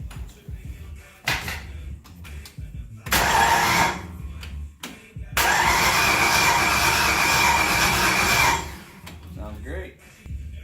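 The 1966 Ford Mustang's engine with a new high-torque starter cranks in short bursts, then catches and runs for a few seconds before shutting off. Close and loud, with brief quiet gaps between attempts.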